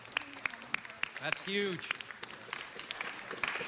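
An audience at a city council meeting claps in sustained applause, a dense patter of close and distant claps, while a voice speaks briefly over it.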